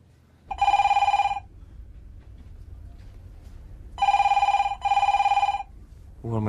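An indoor telephone rings loud and near: one electronic trill, a pause, then two more trills back to back, with a quiet room hum between.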